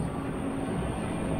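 Monster train Charles from the horror game Choo Choo Charles, a loud continuous rumbling, rattling rail roar that holds steady throughout without a break, with no voices present.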